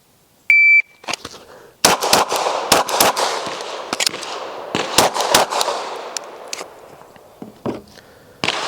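Sharp gunshots ring out at an outdoor shooting range, a handful of loud close cracks spaced irregularly with ringing decay, opened by a short electronic beep and mixed with quieter handling clatter.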